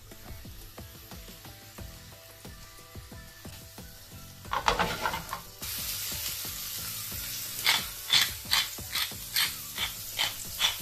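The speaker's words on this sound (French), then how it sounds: "Pendant ce temps, je vais faire sauter les champignons." Button mushrooms sauté in a pan, sizzling steadily, then louder after they hit the hot fat, with rhythmic scraping and tossing sounds repeating near the end.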